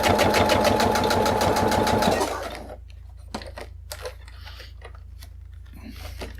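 A sewing machine stitches over a cosplay harness in a fast, steady run for about two seconds, then stops, leaving faint handling clicks and rustles near the microphone.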